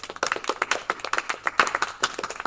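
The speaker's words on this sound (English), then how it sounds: "Round of applause." A small group claps briskly and unevenly for a couple of seconds, sharp nearby handclaps without cheering.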